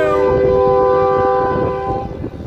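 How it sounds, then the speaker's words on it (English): A train rolls by close at hand near boats on the water where pinfish are being caught, its loud horn blaring in sustained harmonic tones over the rumble of the cars before it begins to fade. "Train behind us."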